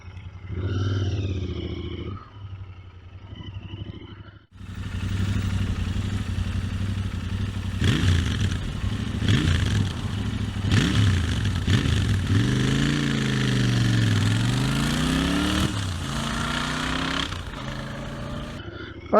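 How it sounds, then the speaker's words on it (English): A Royal Enfield Interceptor 650 motorcycle ridden on country roads: after a quiet start, a loud, steady engine roar rises and falls with gear changes and rolling revs, continuous and close throughout. "now we're going to ride it properly"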